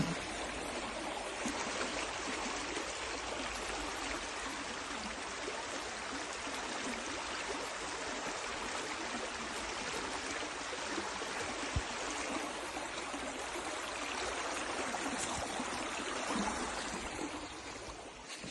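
A river flows in a steady outdoor rush, a broad continuous wash of water heard at moderate distance that holds unchanged for the whole stretch, with no voices.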